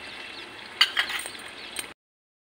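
Chilli chicken in a pan with sauces, tomato ketchup and water, stirred with a spoon: a soft sizzle under a couple of light scraping clinks, close, lasting under two seconds.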